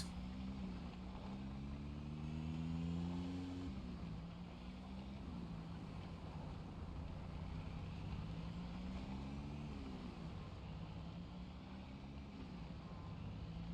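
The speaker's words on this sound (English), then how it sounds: "I need to be careful with this car. I will not drive too quickly." A car engine droning steadily while driving in Project Zomboid, making clunky noises, with a continuous low hum whose pitch rises and falls as the vehicle speeds up and eases off.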